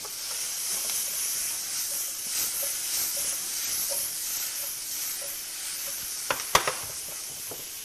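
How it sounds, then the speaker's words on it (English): Onions sautéing with sugar in a well-used pan give a steady, fairly quiet hiss and sizzle throughout, with a few brief louder clatters near the end. "So I'm going to let them sit there and saute for a bit."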